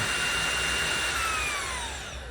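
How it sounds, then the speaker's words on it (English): An LG A905 Cordzero cordless stick vacuum runs on its max setting, its motor giving a loud, shrill high-pitched whine with a steady airflow hiss that drifts slightly lower in pitch. "This vacuum has a very high-pitched motor."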